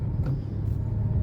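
Heavy road traffic rumbles on EDSA in Makati, a dense low drone of car and bus engines heard from inside a vehicle, steady and loud for the whole stretch.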